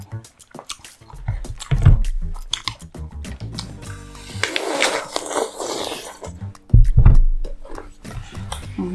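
An apple is bitten and chewed close to the mic, with loud crisp crunches in bursts and wet, squishy chewing between them, set against quiet pauses.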